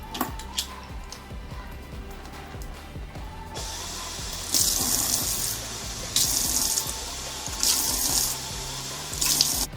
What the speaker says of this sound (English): we're also gonna go ahead and drain the garbanzo beans and rinse them really, really well